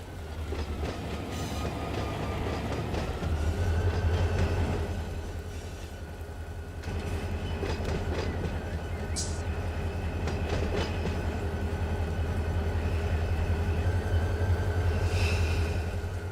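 Train passing in the Run8 train simulator game, a long steady rumble of rolling wagons with rhythmic clickety-clack and occasional higher squeals, loud and continuous with no talk.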